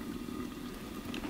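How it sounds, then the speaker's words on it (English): Beaver meat sizzling over a fire inside a wilderness smokehouse gives off a steady, close crackling hiss with soft bubbling, continuous and even throughout, with no voices. "The beaver's sizzling."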